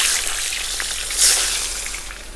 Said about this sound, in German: als erstes kommt unser Fleisch einzeln rein, so zwei, drei Stück am Stück